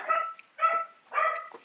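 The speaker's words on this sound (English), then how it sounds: "I apologize for the dogs barking in the background." Several dogs barking in the background of an indoor love reading, three clear bursts of barks about half a second apart, moderately loud with no talk over them.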